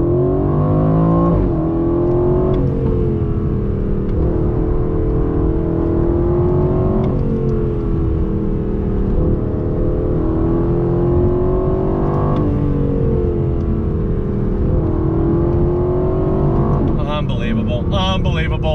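2020 Aston Martin Vantage engine accelerating on throttle, heard from inside the cabin as a loud, sustained roar that rises in pitch through several gears, with brief dips at shifts.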